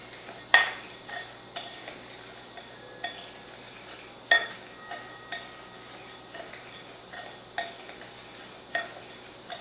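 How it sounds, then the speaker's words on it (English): A utensil stirs an herb and panko breadcrumb mixture in a bowl for oven-fried chicken, with a quiet gritty rustle broken by sharp clinks against the dish every second or so, close and alone. "now I'll just give this mixture a quick stir"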